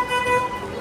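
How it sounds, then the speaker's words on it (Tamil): A toy train ride inside a mall sounds a short, bright horn toot with steady tonal pitches, heard close against a hum of crowd noise in the background. "மாலுக்குள்ளே யாரா பின்னாடி ஹார்ன் அடிக்குதுன்னு பார்த்தா நம்ம ட்ரெயின் வண்டி."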